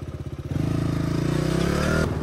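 A motorcycle rides on a rough road with its mid-pitched engine chugging in a steady, pulsing drone that rises slightly as it is revved. The bike is close and loud, with no talk over it.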